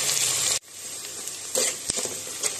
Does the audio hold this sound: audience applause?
no